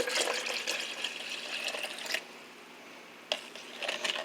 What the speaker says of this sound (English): I'm going to start adding some water.